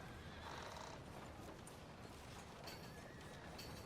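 A horse in the video game Red Dead Redemption 2 gives a faint whinny amid soft hoof clip-clops and a steady low game ambience, all heard quietly without speech.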